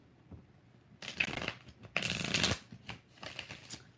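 Tarot cards are shuffled in several quick, crisp bursts of riffling, close and fairly loud, with short pauses between them.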